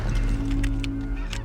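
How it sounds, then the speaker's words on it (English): Ducks flying overhead during a waterfowl hunt give a few brief, bright calls over a steady low rumble, with no one speaking. "we got ducks that are flying everywhere now"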